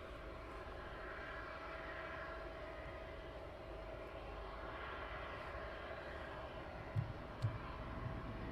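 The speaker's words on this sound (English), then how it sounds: "and one on approach." A fixed-wing airplane on approach at East Midlands Airport at night gives a steady, distant engine roar and rumble that holds evenly throughout, with a couple of faint knocks near the end.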